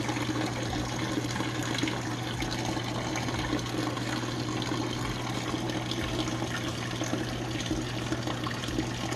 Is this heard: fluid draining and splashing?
yes